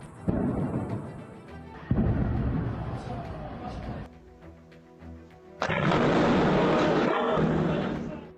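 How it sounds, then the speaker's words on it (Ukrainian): Heavy wartime explosions boom and rumble repeatedly, some sharp and sudden, others a long sustained roar, with a voice briefly heard between them. "Потужні вибухи"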